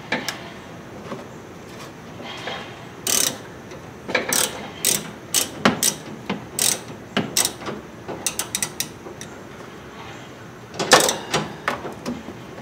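A ratchet wrench tightens a nut during AC repair on a Hummer, giving close, crisp bursts of rapid clicking strokes with brief pauses between pulls.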